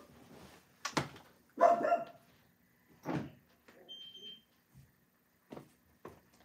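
A dog barks indoors at a home recording studio, several sharp separate barks spread over a few seconds with quiet gaps between them, fairly close by.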